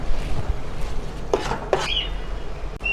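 Chili powder and coriander powder are stirred into a mutton biryani masala in a pot, with a couple of clinking spoon-against-pot knocks and scrapes over a low steady kitchen background, close and fairly loud.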